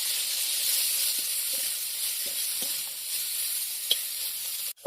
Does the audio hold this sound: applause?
no